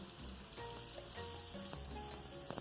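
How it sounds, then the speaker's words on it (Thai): Long eggplant fries in hot oil, a steady, strong crackling sizzle with a faint stir, heard close and uninterrupted. "พอน้ำมันร้อนเราก็จะใส่มะเขือยาวลงไปทอดเลยค่ะ"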